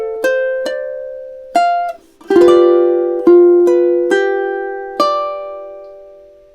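Solo ukulele playing two measures of a chord progression, close and clear, with a handful of plucked notes and strummed chords that ring out between attacks.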